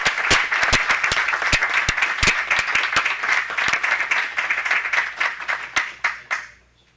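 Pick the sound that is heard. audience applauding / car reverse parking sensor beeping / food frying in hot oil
audience applauding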